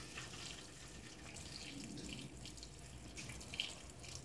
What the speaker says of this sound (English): I can see the water is coming in.